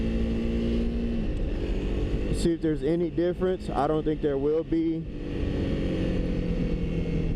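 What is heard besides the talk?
2025 CRF300L motorcycle engine, silencer removed, exhaust not gutted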